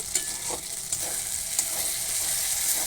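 Ground spice paste fries in a pan with a continuous close sizzle and a few soft scraping stirs, with no talk.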